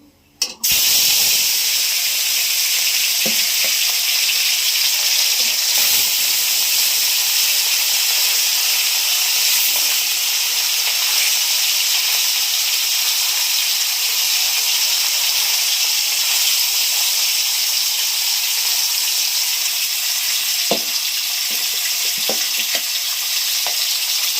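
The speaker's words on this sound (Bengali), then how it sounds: "মাছগুলো আমি ভেজে নেবো" Loud, steady sizzling and hissing of fish frying in hot oil, continuous throughout with occasional faint clinks of stirring.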